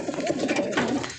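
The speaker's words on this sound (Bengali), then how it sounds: "কবুতর এই যে দেখেন" A pigeon coos close by in a short, loud, rolling call that lasts about a second, with no talking over it.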